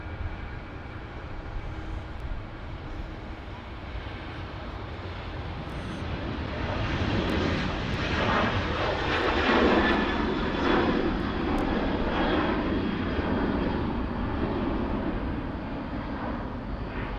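A large jet on final approach to runway 16 right at Sydney Airport, its broad engine roar swelling from a steady rumble to a loud, sustained peak midway and then holding as it passes overhead, with no voices.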